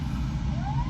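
A dam warning siren wails in the distance before water flow is increased, a rising tone swelling up over a low, steady rumble of background noise.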